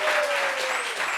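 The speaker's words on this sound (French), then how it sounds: "Applaudissements pour Élisée," A studio audience gives a short burst of steady applause, fairly close and even in level.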